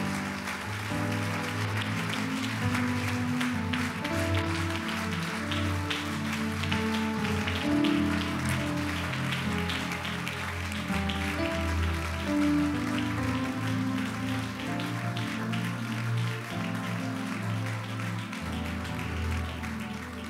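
Congregation in a church service clapping and cheering in praise, steady dense applause lasting throughout, mixed with music and voices.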